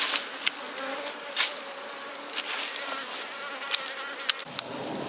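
Honey bees buzz steadily around the front entrance of a beehive during a supering visit, a continuous droning hum close by with occasional louder passes as individual bees fly near, no voices.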